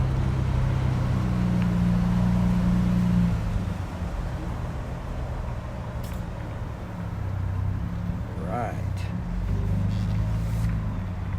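A car drives slowly through a single-story residential neighborhood in Flagstaff, Arizona, with a steady low rumble of engine and road noise heard from inside, rising and easing slightly throughout.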